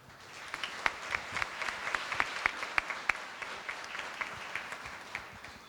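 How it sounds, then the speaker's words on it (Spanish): Soft, fairly distant applause from a modest audience after a panel discussion on inclusive employment, individual sharp claps standing out over a steady patter for several seconds. "Un aplauso, por favor."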